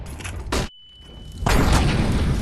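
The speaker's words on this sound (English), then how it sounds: "I'm throwing a flashbang." A flashbang grenade goes off in Counter-Strike with a loud burst, followed by a sudden near-silent gap and a steady high ringing tone, then a dense wash of loud game noise returns.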